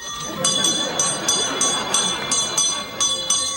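Small handheld bell rung beside a Santa kettle, giving a steady run of bright, fairly loud jingling strokes about every third of a second, with a voice talking underneath.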